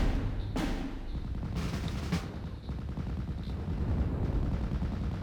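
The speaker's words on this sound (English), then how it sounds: "We're being shot at." Gunfire in a WWII strategy video game on the Omaha map, with several sharp shot bursts cutting through a constant busy battle backdrop of distant rumble and crackle, steady and fairly loud throughout.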